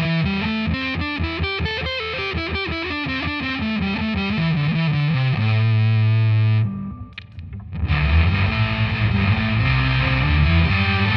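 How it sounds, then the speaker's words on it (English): Electric guitar through an Electro-Harmonix Big Muff Pi fuzz pedal, a thick, sustained distorted tone playing a moving riff and held chords, loud and continuous with a brief dip before the playing resumes. "We've got the Big Muff Pi on the floor from Electro Harmonics."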